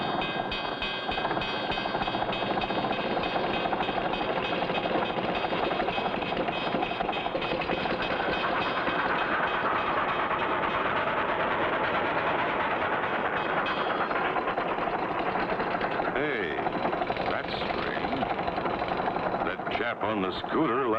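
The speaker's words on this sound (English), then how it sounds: "Uh-oh, train's coming." A passing train rumbling with a dense, steady, clattering roar at the rail crossing in an old cartoon, loud and continuous throughout, with a voice speaking over it briefly near the end.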